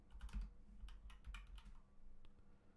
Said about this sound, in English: why is my keyboard, like, spazzing out?